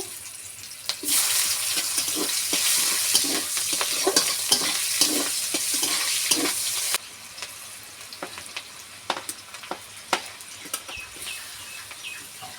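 Green chilli, bay leaf, whole cumin and chopped onion frying in hot oil, a steady loud sizzle with repeated stirring scrapes that drops to a quieter crackle halfway through, with no voices.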